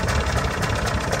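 Boat engine number one runs after a cold start, a loud close steady idle with a throbbing low rumble and rhythmic knocking pulses, no talk over it.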